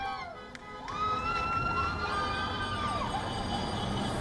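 Crowd celebrating in the streets of New York after the 2020 US election result, a broad wash of distant cheering with a police siren wailing and sweeping over it, continuous and fairly loud.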